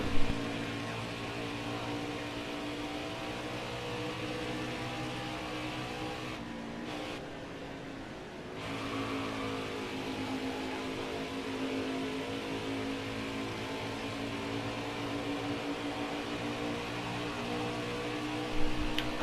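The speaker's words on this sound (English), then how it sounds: "I thought I'd let y'all hear the engines a little bit more." Race car engines from the NASCAR Heat video game droning steadily at high revs for the whole stretch, with a brief dip and change in tone near the middle before the full roar returns.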